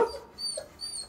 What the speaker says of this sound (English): when I'm listening to things at home and somebody's dog is barking, then my dogs start barking.